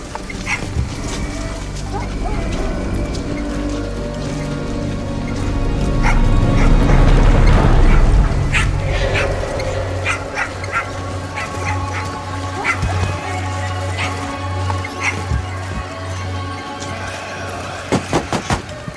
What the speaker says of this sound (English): So when the dog starts barking, she's going to be looking for the door.